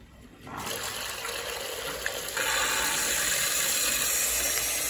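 Water rushes steadily as a McDonnell Miller 47-2 low water cutoff on a boiler is flushed, a loud continuous hiss and gush that starts abruptly and grows stronger partway through, heard alone.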